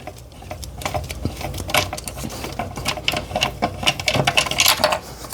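A 12 mm bolt is driven out on a 2020 Toyota Avalon with a power tool. The rapid mechanical rattling whir runs in close bursts for several seconds.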